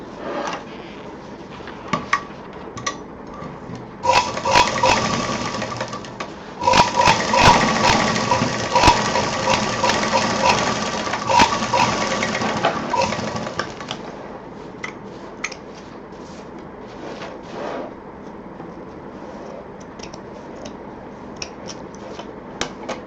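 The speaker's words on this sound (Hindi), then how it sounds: "दूसरी तरफ का भी सिल देंगे" A sewing machine stitches the second side of a party-wear purse, its steady whirring runs rising loud for several seconds between quieter pauses and handling clicks.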